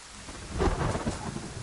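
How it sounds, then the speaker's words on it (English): Steady heavy rain with a rolling rumble of thunder in the DayZ survival game, a dense, continuous wash of noise that swells briefly in the middle, with no voices. "I need this rain to stop or my man's gonna catch it cold real quick."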